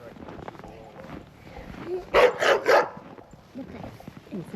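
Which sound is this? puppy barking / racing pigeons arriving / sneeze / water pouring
puppy barking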